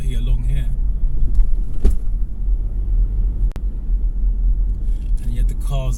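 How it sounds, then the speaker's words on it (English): Cars driving along a 20 mph road on the Wood Green test route, heard as a steady engine rumble from inside a vehicle, with passing traffic, a brief knock and a short quiet dip partway through. "And yet the cars whizzing up and down."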